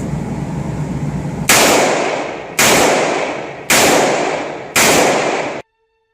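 Four loud, sharp revolver shots from a Smith & Wesson K-frame Model 15, spaced roughly a second apart, each with a short decaying echo and then a clean stop.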